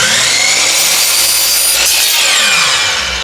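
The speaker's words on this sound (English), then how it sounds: "We're going to cut it down to 5 inches wide on the table saw" A table saw rips through a wooden fence picket, cutting it to width: a loud, steady, dense whine with a slight pitch sweep midway, continuous and close for the full stretch, with no voices.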